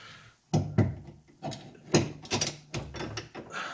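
A B&M Magnum Grip gated shifter being worked on a Polaris RZR XP 1000 clunks into the neutral slot, a short run of sharp mechanical clicks and metallic ratcheting knocks at close range, with no talking.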